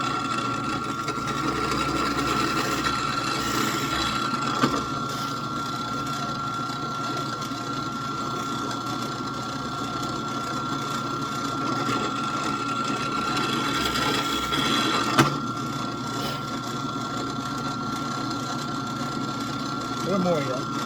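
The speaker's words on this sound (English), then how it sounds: "I'm going to drill in far enough so I can set this whole axle peg in" A drill bores a hole into wood for a toy train axle peg, a steady high whirring hum that runs continuously with a few small knocks, while someone talks over it.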